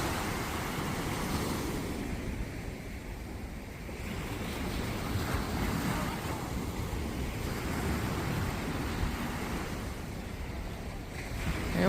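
Heavy Miami ocean waves break and wash in a continuous roaring surge, swelling and easing in turn, with wind rushing across the microphone and no talk.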